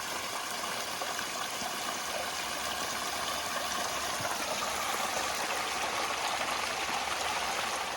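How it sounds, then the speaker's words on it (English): Steady rushing water from a freshwater spring on a farm, running heavy after rains, flows continuously with a constant broad gurgling like a stream, with no voices. "The freshwater spring is running heavy after these rains."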